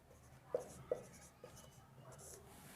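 Writing on a board, with faint, close strokes and a couple of sharp taps at the start, then softer scratching in a quiet room.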